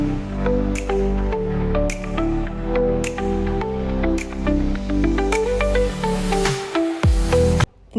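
Water draining off cooked rice in a kitchen, poured and strained in a steady run of splashing and dripping that stays close and fairly loud for several seconds, then ends abruptly.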